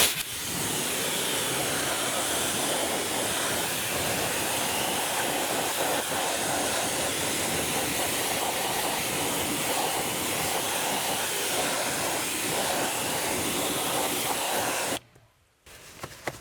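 Pressure-washer water spray rinsing a car wheel, a loud steady close hiss lasting about fifteen seconds before cutting off abruptly, followed by brief quiet.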